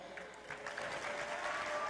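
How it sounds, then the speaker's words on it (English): Short burst of crowd applause at an outdoor tribal fair, many hands clapping steadily at moderate distance, with faint voices mixed in beneath. "I want you guys to give him a big round of applause before we put him up."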